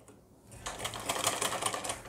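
A sewing machine stitching a folded one-inch hem on a frock kurti: after a quiet start, a rapid, steady clatter of stitching runs close and moderately loud to the end.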